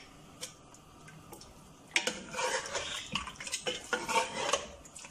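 Cream being mixed into chicken with the flame off: quiet at first, then a run of close, crisp scrapes and light clinks of a spoon against the pot.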